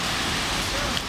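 Heavy rain in a steady, dense hiss, close and loud, across the whole short stretch with no pauses.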